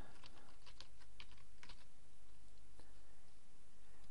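A username being typed on a computer keyboard, rapid light key clicks in quick bursts, close and quiet over a steady hum, then settling into near stillness.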